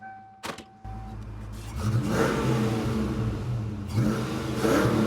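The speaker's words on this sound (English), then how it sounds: "Listen to that exhaust." A 5.0 Ford Mustang Fox body idles and then revs twice through its exhaust, each rev a throaty rise and fall heard from nearby after a door or window sound at the start.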